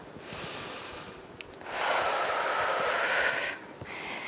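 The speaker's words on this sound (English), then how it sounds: "Nice deep breath" Deep breathing during a yoga pose, a long slow exhale-like rush swelling in the middle and fading, close and soft over a faint background hiss, with no talk.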